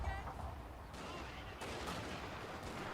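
Infantry rifle volleys in the Total War: Fall of the Samurai battle game, dense crackling gunfire rolling in overlapping waves, faint and distant-sounding under a steady wash of battle noise.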